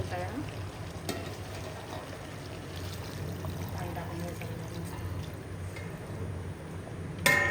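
Hot water is poured into a pot of country chicken being cooked into a spicy curry, a soft sizzling splash under quiet talk, ending in a sharper clatter.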